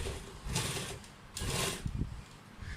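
Faint, close bursts of a sewing machine stitching kurta fabric pieces together, two short runs of rapid mechanical whirring separated by a pause, with light handling knocks.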